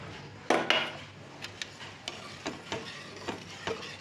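Custard made with milk and custard powder being stirred in a pot over a low gas flame, with a few sharp clinks of spoon against metal spread out, alone and close.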